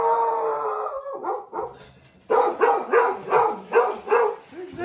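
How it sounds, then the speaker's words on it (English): A puppy howls in a long, wavering cry, then breaks into a run of about six rapid, close yapping barks indoors in a cottage. "There's a puppy dog."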